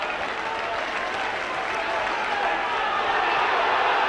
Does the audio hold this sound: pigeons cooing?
no